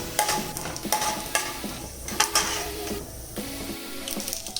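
Mustard seeds, cumin, chana dal and urad dal spluttering in hot oil for a beetroot palya tempering, with a steady crackling sizzle and scattered sharp pops close by, no talking.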